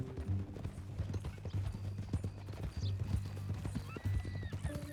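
Steady horse hooves clip-clopping at a walking rhythm in Red Dead Redemption 2 on PS5, close and clear, with a horse whinny and faint mechanical clicks in the background.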